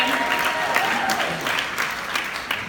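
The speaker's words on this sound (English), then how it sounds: "Can we clap for Gary Vee on that" Audience applause at an Instagram training session, a steady wash of clapping from a room of listeners lasting a few seconds, fairly loud and continuous.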